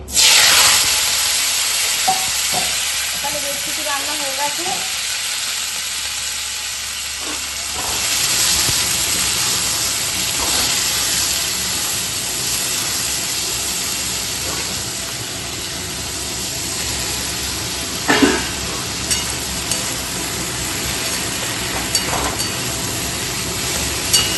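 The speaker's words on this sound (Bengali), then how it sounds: "বরবটি ছিল ছিল ঢ্যাঁড়স পেঁয়াজ আলু কুচিয়ে নিয়েছি সব দিয়ে দেবো তেলে" Chopped yardlong beans, okra, onion and potato hit hot oil with a loud, sustained hissing sizzle that carries on steadily, with occasional stirring clinks.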